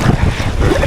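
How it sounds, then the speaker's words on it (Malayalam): Strong wind buffets the microphone while kayaking on open water between Warsaw and Gdansk, Poland: a loud, continuous roar of gusts with low rumbling throughout the second. "ഇത് കാറ്റ് ഫുള്ള് അവിടെ നിന്ന് ഇങ്ങോട്ടാണ് വരുന്നത്"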